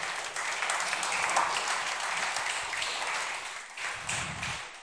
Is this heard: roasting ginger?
no